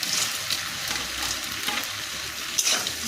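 Corn kernels sizzle and are stirred through chilli sauce in a hot pan, a steady frying crackle with scraping stirs and occasional louder clacks, no voices.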